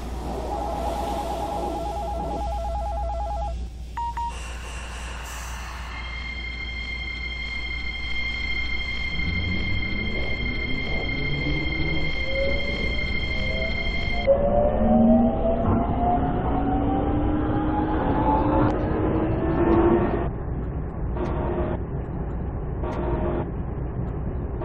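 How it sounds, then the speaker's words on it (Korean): A Seoul Metro Line 5 subway train pulls away: electronic chime tones and a door-closing beep give way to a rising motor whine and rumbling wheels that build steadily. "열차가 곧 출발합니다."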